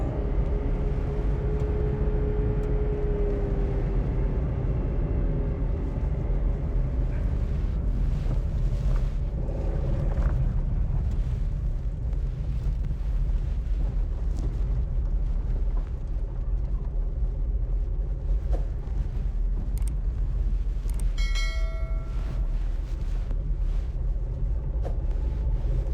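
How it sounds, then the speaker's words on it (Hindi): Suzuki Alto VXR 2022 car driving through a cornering test: a steady low engine drone and road rumble with wind noise runs throughout, with a few brief faint tonal squeaks near the end. "अभी कॉर्नरिंग टेस्ट करते हैं"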